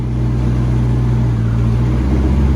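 A C5 Corvette's engine runs steadily on its first start after a clutch job and torque tube rebuild, a loud, close, constant low drone with no talk over it.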